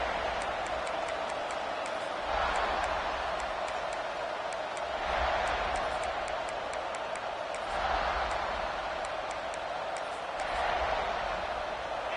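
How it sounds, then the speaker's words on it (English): Football stadium crowd noise: a steady roar from a large crowd, swelling in waves every few seconds, with scattered sharp claps and whistles on top, fairly loud and continuous without clear talk. "This crowd ready to make its presence known."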